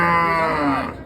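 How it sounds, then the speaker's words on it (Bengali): A high-quality dairy cow that has just calved lets out a loud, close moo at a rural cattle market. The single call fills the moment and tapers off at the end. "অনেক সুন্দর কোয়ালিটির গাভী দেখতে পাচ্ছি"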